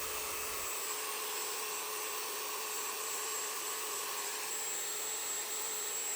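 Router with a 1/8 inch bit carving the outside of a wooden picture: a steady high-pitched whine with a hissy, airy edge, even and unbroken throughout, moderately close and alone.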